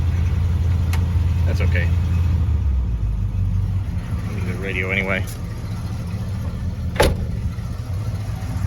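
A 1971 Buick LeSabre engine idles with a steady low rumble throughout while a person speaks briefly over it, with a few faint clicks.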